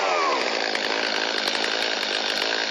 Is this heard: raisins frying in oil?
no